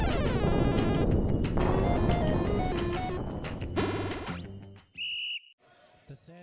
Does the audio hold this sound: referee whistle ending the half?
yes